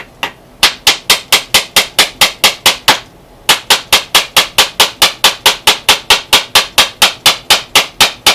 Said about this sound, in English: I could probably use a bigger hammer on these nails